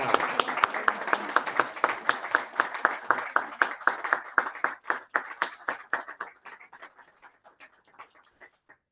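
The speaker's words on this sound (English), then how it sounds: "A round of applause for Melissa." A small audience at a Toastmasters club meeting applauds a first-time participant named Melissa, with distinct individual claps in a brisk patter that gradually thins and fades out over several seconds.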